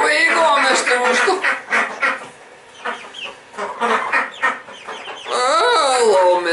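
Chickens and a rooster clucking and squawking on a homestead, close and fairly loud, mixed in with someone talking over them throughout.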